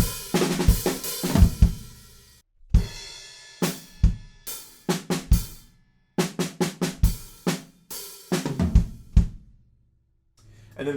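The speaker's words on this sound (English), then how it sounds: "when we move on, we've kind of got more of a breakbeat kind of thing going on" Drum kit plays a breakbeat groove from a song, punchy kick, snare and cymbal hits in repeated phrases separated by short pauses, close and loud with no talking.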